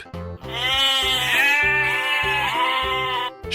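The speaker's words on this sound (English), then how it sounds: "sheep" A sheep bleats loudly in one long, wavering, continuous call, close and alone with no talking.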